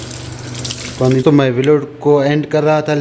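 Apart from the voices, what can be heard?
water running from a tap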